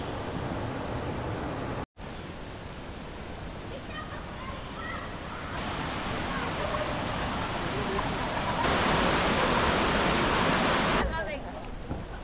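Strong running water at a cold spring in Sulat, a steady broadband rush that fills the clip and swells louder near the end, with people talking over it.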